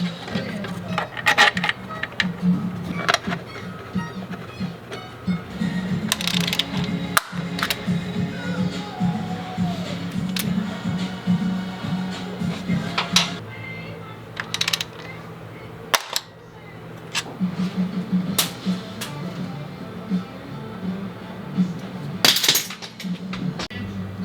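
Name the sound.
tightening Miata valve cover bolts, bolts snapping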